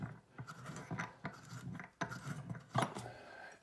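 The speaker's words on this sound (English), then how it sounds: "All you do is use a reamer" A hand reamer enlarges a guitar bridge pin hole with a run of quiet, close, rhythmic rasping scrapes, each twist stroke separated by short pauses.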